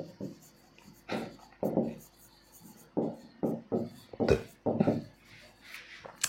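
Pen strokes on paper while an accounting figure is noted down, several short scratchy bursts of writing in an irregular rhythm, close and fairly quiet, with no one talking.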